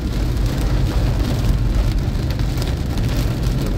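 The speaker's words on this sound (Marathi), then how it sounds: "पाऊस पण जोरदार आहे एकदम" Heavy monsoon rain near Karla, Lonavala, a dense steady roar of drops pounding surfaces close by, with no voices.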